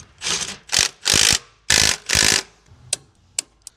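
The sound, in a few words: ratchet tightening boat trailer disc brake caliper bolts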